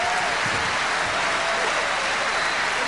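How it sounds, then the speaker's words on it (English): A heavyweight boxing crowd at a world title fight between Klitschko and Chambers roars in a sustained, dense wash of cheering and clapping, steady and loud throughout with no clear voices standing out. "Crowd noise goes up again."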